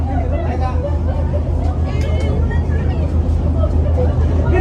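A crowd of passengers boarding the KA Jenggala commuter train at Surabaya Gubeng station, with loud continuous babble from many voices over a low rumbling hum, close and dense throughout.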